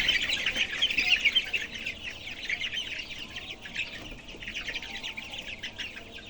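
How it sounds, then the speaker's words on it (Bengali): Sonali chickens cluck and chatter steadily inside a shed, a dense flock of overlapping calls that holds fairly loud and continuous throughout, dipping slightly in the middle before picking up again. "দেখতে পাইতেছেন মুরগা ইনশাল্লাহ মুরগি ভালো আছে"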